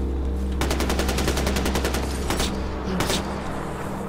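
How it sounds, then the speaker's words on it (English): Gunfire in the Far Cry 4 video game comes as a rapid automatic burst of evenly spaced shots, followed by a few heavier single booms over a constant loud background hum of game ambience. "What are you shooting at now?"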